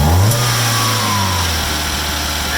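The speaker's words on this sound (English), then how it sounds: "it's doing its normal high idle" A Suzuki Sidekick with a swapped-in 16-valve engine runs steadily at a high idle. The engine drone is loud, close and continuous, with a slight dip in pitch as it begins to settle.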